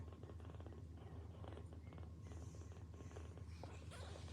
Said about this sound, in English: I don't know if you can hear him purring on there.